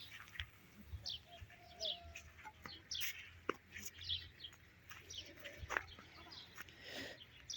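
Scattered small chirps from sparrows come in short bursts outdoors in a village garden over a low hum, with a brief faint voice near the end.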